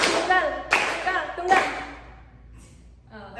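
A classroom group claps together in an icebreaker clapping game, giving three loud, sharp unison claps at an even beat before a quieter pause, with faint voices near the end.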